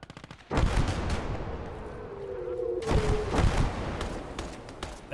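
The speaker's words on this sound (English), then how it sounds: "And it's a machine gunner." Gunfire and heavy bursts in a Battle of Stalingrad war game, starting abruptly after a short lead-in and sustained loudly throughout, with a second surge of close shots near the end.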